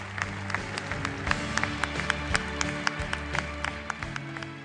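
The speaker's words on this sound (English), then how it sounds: "Give them a big round of applause and your best wishes for their future." Audience applause at an engineering awards dinner honouring rising stars, a dense steady clapping from a large seated crowd with some louder individual claps standing out, continuous throughout with a low hum underneath.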